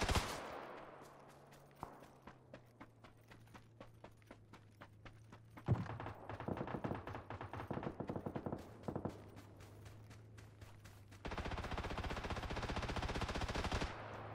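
Video game gunfire, rapid automatic bursts that stutter in and out, going from sparse distant shots to dense sustained volleys, with a steady low engine-like drone underneath and no talking.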